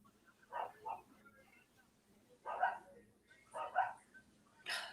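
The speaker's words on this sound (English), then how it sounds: "Look at my dogs are acting up now." Dogs barking and acting up indoors, faint distant barks in three short bursts of two or three yips each, with low background noise.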